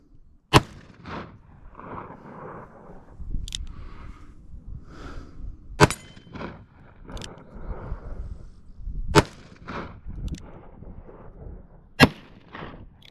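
Five loud revolver shots from a seven-shot Smith & Wesson 686 chambered for .38/.357, spaced a few seconds apart at an outdoor range, each a sharp crack with trailing echo over low background rumble.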